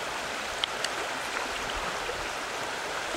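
Water in a small woodland stream runs continuously with a steady, fairly loud babble and soft splashes. No voices are heard.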